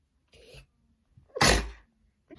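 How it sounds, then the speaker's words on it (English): A single sharp sneeze bursts out loudly after a brief breathy intake, with a few faint sounds before and after it. "I feel like I'm about to sneeze."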